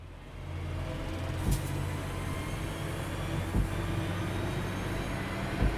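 Class 323 electric train accelerating in Train Simulator Classic on a snowy rush-hour run to Redditch, a steady low rumble and motor hum with faint track clicks, heard alone without talk.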